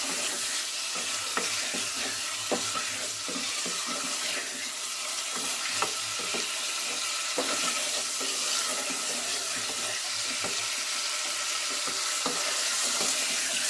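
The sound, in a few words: chicken frying in oil while being stirred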